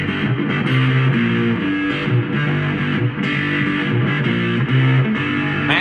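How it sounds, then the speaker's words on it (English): A three-string cigar box guitar played through a distortion pedal grinds out a heavily overdriven, sustained riff with repeating chord stabs, loud and up close, no talking. "Massive amounts of distortion."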